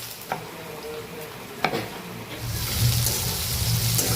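Green chillies drop into hot oil for a home-cooked crab dish, starting a loud, steady sizzle partway through that follows a few quiet clinks and low background noise.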